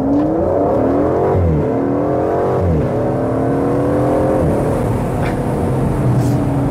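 Aston Martin New Vantage Roadster engine accelerating hard on the road toward Saint-Tropez, a loud steady roar rising and falling through several gear changes with turbo whoosh over the top, no talking.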